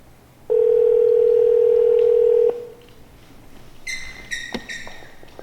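Steady telephone dial tone sounds loud and alone for about two seconds, then stops; faint electronic beeps and tones follow, as on a phone line while calling someone.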